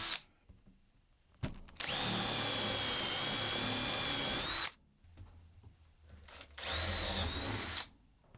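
A power drill bores into a wood strip to recess bolts for casters on a table saw mobile base, in two loud sustained bursts separated by a quiet pause.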